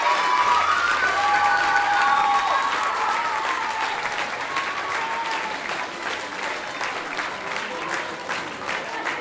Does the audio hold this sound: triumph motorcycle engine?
no